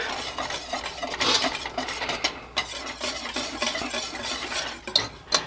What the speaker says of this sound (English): whisk that in here quick.